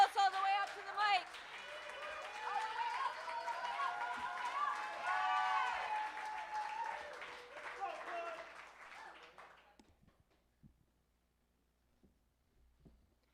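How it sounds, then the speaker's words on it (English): An audience at a poetry slam applauds and cheers with clapping and voices mixed in, fairly loud at first and tapering away to near silence after about ten seconds. "Give that applause for Jules."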